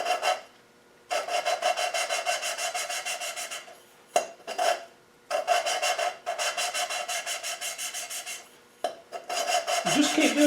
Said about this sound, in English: And you'll hear the noise, the grinding.